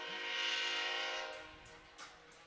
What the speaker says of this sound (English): As always, the train making its presence felt